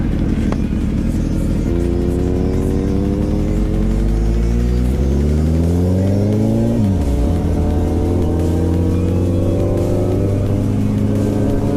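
A 2008 Suzuki Hayabusa motorcycle is ridden with a loud, close engine drone whose pitch climbs steadily, drops sharply at a gear change, then rises again.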